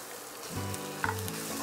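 Ground meat hits a hot pan with onion and garlic, and a steady close sizzle follows with a couple of brief utensil clicks.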